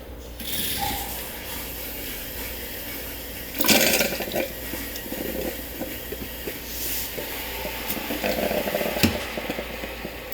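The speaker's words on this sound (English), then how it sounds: "you can hear it flash vaporizing inside the hot water heater" Water flash vaporizing inside an instant hot water heater beneath a kitchen sink, a continuous hissing, gurgling rush with irregular rattling, mechanical clicks and a louder surge partway through.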